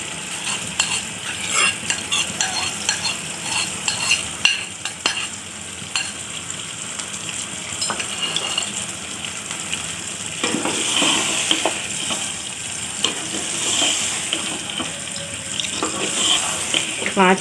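Beaten eggs, eight of them, frying in a pan with onions, a steady close sizzle running throughout with scraping stir strokes and occasional clinks of a utensil against the pan.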